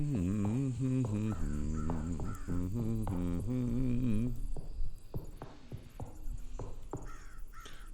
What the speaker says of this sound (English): Those crows.